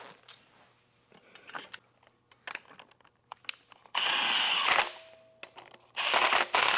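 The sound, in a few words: ratchet tightening T50 Torx bolts between turbo and manifold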